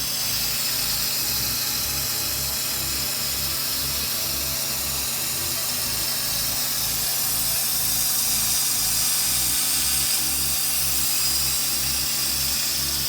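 A rust protection coating sprays steadily onto a trailer frame, giving a continuous loud hiss with a rhythmic low pulsing underneath, running without a break and with no talking.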